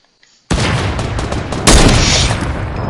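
Gunfire in the video game Fortnite, a sudden loud dense blast of shooting that begins abruptly and continues unbroken, swelling louder partway through, close and alone without talking.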